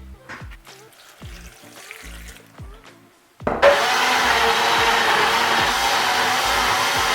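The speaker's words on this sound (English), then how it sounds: "put some water and blend." A few quiet taps and knocks come first, then a blender roars to life, blending onion, ginger and garlic with water, and runs steadily at full, loud whirring power until the end.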